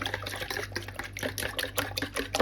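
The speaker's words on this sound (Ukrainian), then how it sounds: "Вбиваємо сюди два яйця. І трішечки ось так" Two eggs being stirred in a bowl with melted butter, giving a continuous wet, sloshing clatter of utensil against bowl for a couple of seconds, close and fairly loud with no talking.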